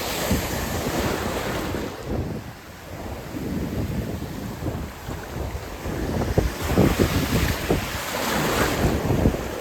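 Sea waves surge and break along a coast while strong wind buffets the microphone, a loud rolling roar that swells and dips, heard from a fishing outing with no voices.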